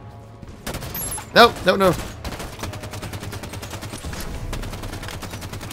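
Halo 5 Battle Rifle fire comes as quick three-round bursts, repeated in a steady clipped rhythm through the whole stretch of game action, with a voice talking briefly over the shooting.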